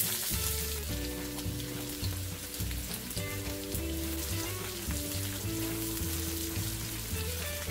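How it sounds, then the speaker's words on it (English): Thinly sliced onions fry in oil alongside cinnamon stick and bay leaves for mutton keema pulao, a steady close sizzle running the whole time beneath prominent background music. "add thinly sliced onions."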